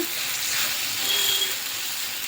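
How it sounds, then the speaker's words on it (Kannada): Coriander powder, about a spoonful, fries in oil for a village-style egg curry, giving a steady, fairly loud sizzle with soft hissing throughout and no talk. "ಒಂದು ಸ್ಪೂನ್ ಅಷ್ಟು ಧನ್ಯ ಪೌಡರ್ ಇಷ್ಟು ಚೆನ್ನಾಗೆ ಫ್ರೈ ಮಾಡೋಣ"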